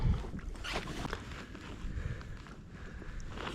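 Kayak paddle strokes pull through small rolling sea swells off the Dunbar Harbour coast, with soft splashes and water washing against the hull under steady wind.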